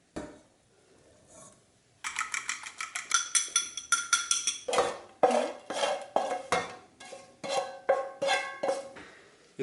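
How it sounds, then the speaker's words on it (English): Pasta being stirred with eggs and bacon for carbonara, a utensil scraping and clinking rhythmically against a metal pot in quick repeated strokes after a quiet start. "It's very important to stir it up a bit, to cook the egg, but not too much"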